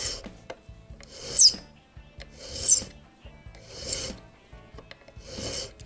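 A clock pin held in a pin vise gets its end filed square for a French Japy Freres Napoleon mantel clock, with four or five steady rasping strokes at a regular rhythm, close and clear.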